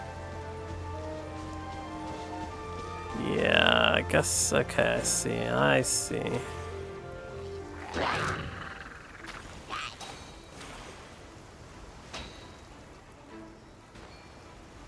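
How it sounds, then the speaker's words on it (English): Rain falls in a courtyard in the video game Genshin Impact, a soft, steady patter that carries on beneath a stretch of fairly loud character talk. "I love listening to the rain from the courtyard."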